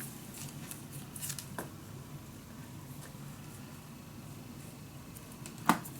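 Scissors snip material to size for a craft frame: a few faint, close cuts amid quiet room tone, with one sharper snip near the end.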